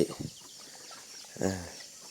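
Chickens being put into a coop outdoors give a few short clucks, one brief burst near the start and another louder, throatier cluck a little later, with quiet background in between.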